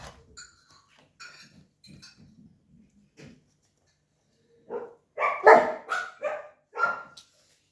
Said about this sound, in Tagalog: Masasalang ko yung pagkain ng aso pagkatapos. Kaya nag-iingay na.